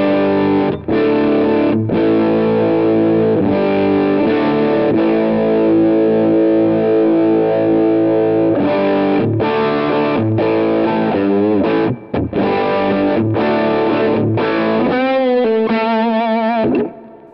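Electric guitar through a Tech 21 SansAmp Character Plus Mop Top Liverpool pedal at maximum gain with no boost: loud, crunchy Vox-style drive with chords and riffs, ending in wobbling bent notes before stopping, no talk.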